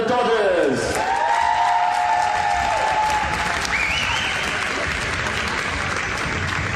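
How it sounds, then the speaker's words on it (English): A crowd at a women's premier basketball final gives a sustained round of applause with some cheering, steady and full throughout, while an announcer speaks over it. "One more big round of applause for the Dodgers."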